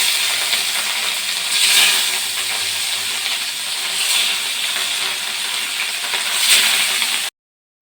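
Katla fish frying in hot oil, giving a loud continuous sizzle and hiss close by, swelling gently in a few waves before stopping abruptly.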